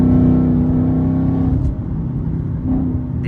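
Steady deep idle rumble from a Ford Mustang fitted with a Corsa exhaust, close and continuous, with a slight dip and swell partway through.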